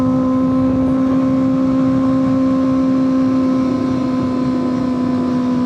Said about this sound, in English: So you can rev match down all the way.